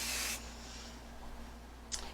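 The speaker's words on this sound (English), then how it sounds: "now I'm going to hairspray it" Hairspray from an aerosol can misted onto hair set in rollers, a sharp hissing burst of about a third of a second, then quiet, then a second shorter spray near the end.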